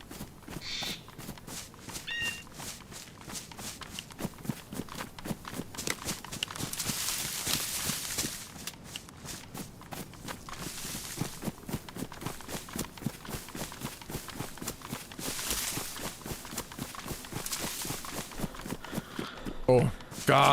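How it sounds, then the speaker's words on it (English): Footsteps in the DayZ video game, a long run of quick, regular thuds with a clip-clop feel, heard under intermittent talk and game sounds. "Oh, God, I heard the footsteps."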